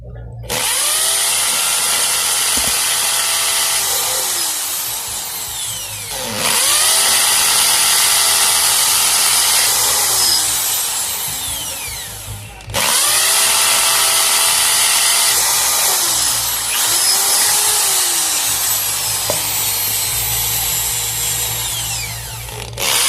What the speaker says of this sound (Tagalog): pwede po tayong gumamit ng drill hammer o barena